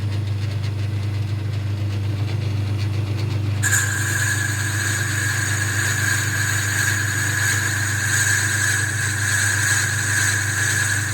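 Old Boxford lathe boring through a cast iron boss: steady low motor hum, joined partway through by a sharp, sustained high-pitched cutting whine that holds without break to the end.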